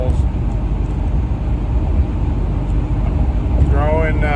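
A 1975 Pontiac Trans Am cruising on a highway, with a steady low engine and road drone and constant wind and tire rumble, and a voice coming in briefly near the end.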